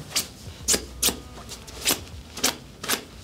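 Sharp scratching strokes across jacket fabric in a scratch test, six quick separate rasps in a loose rhythm, close and fairly faint, with no voices.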